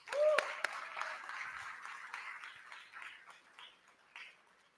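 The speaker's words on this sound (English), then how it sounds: "We can clap for that." Audience clapping at a school ribbon cutting ceremony, a scattered outdoor round of applause that swells briefly then thins out, fairly faint and distant.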